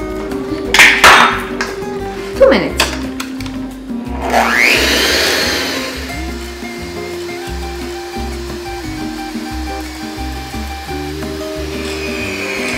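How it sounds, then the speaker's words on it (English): An electric mixer beats eggs and sugar for a zebra sponge cake, a loud steady whirring drone that runs for several seconds after a few clanks and a rising motor start, close by with no talk. "combine eggs and sugar and beat it until it's nice and fluffy"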